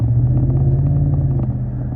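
A 2014 Ford F-150 four-wheel-drive pickup with a 5.0-liter Coyote V8 is being driven, giving a steady low engine rumble heard from inside the cab, easing off slightly toward the end.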